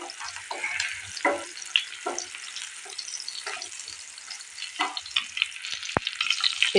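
Paneer frying in a pan for a curry, a steady crackling sizzle with scattered louder pops and stirring scrapes, close and continuous with no voices.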